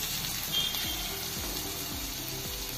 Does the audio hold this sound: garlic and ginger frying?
yes